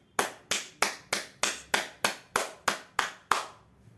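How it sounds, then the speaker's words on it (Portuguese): One person claps hands eleven times at a steady, even pace, each clap sharp and close, with a short fading tail and no talking. "eu vou terminar esse vídeo aqui como eu comecei, aplaudindo o desempenho de vocês"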